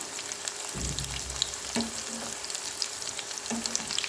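Chicken nuggets frying in a pan give a steady, close sizzle and crackle, broken by a few louder bursts of spatter and stirring, with no talking.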